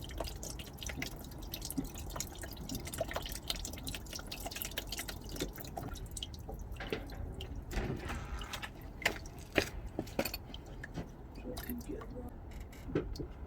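Coolant drips and trickles from the radiator petcock of a Nissan Elgrand E51, a faint, irregular run of small drips and splashes up close, with light mechanical clicks and a person talking in the background.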